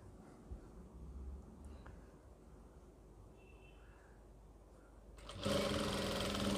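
A sewing machine stitches a seam on an Afghani salwar, starting up near the end with a steady, loud whirring run after a quiet stretch of faint room noise.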